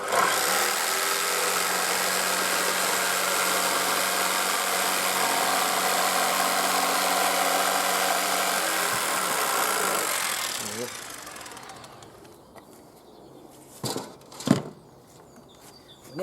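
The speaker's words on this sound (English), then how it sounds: "with a jigsaw, your main job is to keep this part of the saw, what we call the table, flat on the piece of wood." An electric jigsaw cuts wood for a flower box, a loud steady buzzing drone running close for about ten seconds before winding down, followed by a few knocks and handling sounds.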